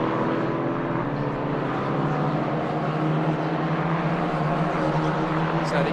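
Formula 4 race cars lapping the circuit during a UAE championship qualifying session, a steady, continuous engine drone at a distance with no distinct pass-bys, fairly loud and unbroken throughout.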